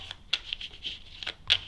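A deck of cards for a solo tabletop board game is shuffled by hand, giving quiet, quick riffling and flicking bursts at close range in a quiet room.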